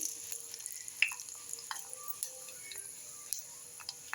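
Mustard seeds frying in oil: faint, sparse popping and ticking crackles over a soft sizzle, close but quiet, with small sharp bursts spread irregularly.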